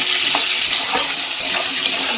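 Tomato and potato frying in a pan are stirred, a close, continuous crackling sizzle with soft scraping movements breaking through the hiss.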